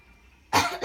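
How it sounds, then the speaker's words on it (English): A single close, sharp cough bursts out after a quiet moment, followed by a smaller second cough. "Sorry, I had a little cough there."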